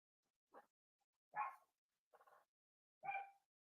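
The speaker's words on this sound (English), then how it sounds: "Sorry about the doggo being angry in the background." A dog barks in the background, giving about four separate angry barks and yaps spaced roughly a second apart, fairly faint and without any talk over them.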